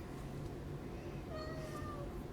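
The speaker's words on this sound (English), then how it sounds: "Bud, are you a riff-raff street cat?" A street cat gives a short, faint rising meow over quiet background noise.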